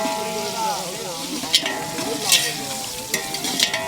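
Tomato and green chili sizzle in a pan for biryani, making a loud, close frying hiss with several sharp utensil clatters and stirring scrapes, while a voice talks over it.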